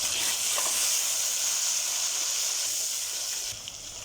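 Chopped tomato hitting a hot pan of dal, a steady loud hiss and sizzle that holds throughout and eases slightly near the end.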